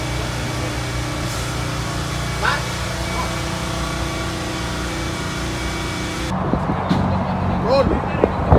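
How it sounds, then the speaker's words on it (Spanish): Motorcycle engine running steadily outdoors in California, a constant mid-pitched drone throughout, with a shift in tone near the end as voices and other noise rise. "Mira la moto de Omar."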